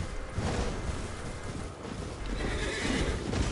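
In Elden Ring, a horse neighs loudly over a dense, rumbling game soundscape with hoof clatter, all continuous and close throughout.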